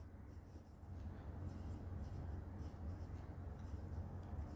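Pen or pencil scratching on paper while writing labels on a bar graph, a continuous soft rubbing stroke, close and quiet.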